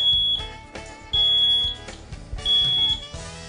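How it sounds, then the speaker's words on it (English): Micro-Tech Informer patient monitor sounding its alarm from a pressure-sensitive pad: three sustained high-pitched electronic tones, each repeating over a noisy background with low clattering underneath. "When you take your hand off of the pad, the monitor will go into alarm"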